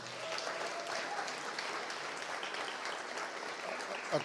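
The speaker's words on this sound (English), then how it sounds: "I want one more round of applause for our awardees today" An audience applauds awardees at a Detroit startup fund awards event, a steady wash of clapping throughout, moderately loud and sustained.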